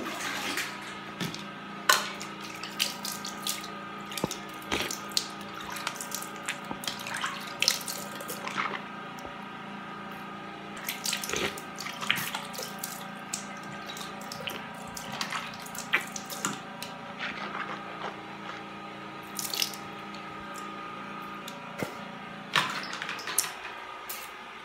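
Running tap water rinsing out a teeth whitening remedy made with dry orange peel, a steady close splash and trickle into a sink with scattered drips and clatters, no talking.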